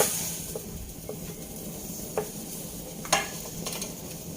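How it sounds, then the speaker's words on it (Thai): Chicken is stirred in a pot of boiling water on the stove while making Thai larb. Soft, steady bubbling and hissing carries a few sharp clinks of the utensil against the pot, and no one speaks. "พอเดือดใส่ไก่ลงไปรวนค่ะ"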